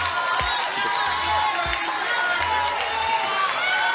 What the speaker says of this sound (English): And the Blue Boys cheer.